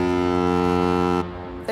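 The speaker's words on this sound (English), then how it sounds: "invented the diaphone, an organ pipe so frighteningly loud it was used by coast guards all over the world as a foghorn." A diaphone organ pipe of the kind once used by coast guards as a foghorn gives a loud, steady, deep blast for about a second, then cuts off abruptly, leaving a fainter trailing tone.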